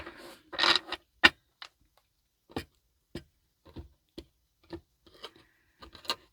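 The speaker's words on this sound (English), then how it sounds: "And Shuffle and Cut number 2." A tarot card deck being shuffled and cut: a brief riffle burst followed by a series of sharp, separate card taps and slaps spaced about half a second apart, close and crisp in a quiet room.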